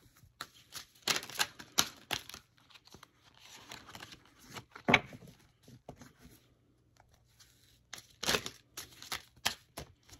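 A deck of oracle cards is shuffled with quick bursts of riffling and flicking, separated by short quiet pauses, close and fairly soft.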